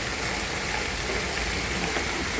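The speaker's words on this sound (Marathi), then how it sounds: "एवढ्या प्रमाणात पाऊस" Heavy rain during a cloudburst pours in a dense, constant roar close by, with no voices over it.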